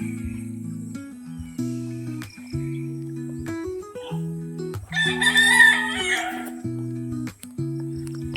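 Hens cluck and call in a steady, layered chorus while a rooster lets out a loud crow partway through, all fairly close.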